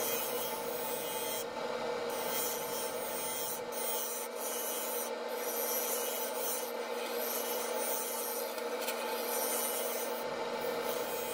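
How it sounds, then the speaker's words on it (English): A maple burl vase being hollowed on a wood lathe with an Easy Wood Tools number 1 hollower, a steady rasping scrape over a constant motor hum, close and continuous with brief shifts in tone as the cut changes. "This is Easy Wood Tool number 1 hollower."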